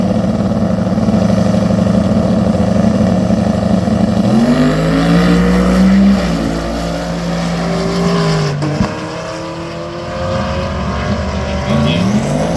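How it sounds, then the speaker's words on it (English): A loud drag racing car engine roars and revs, its pitch climbing then dropping, with a sharp sudden pop partway through like a backfire. "Heard a backfire from Jason's car"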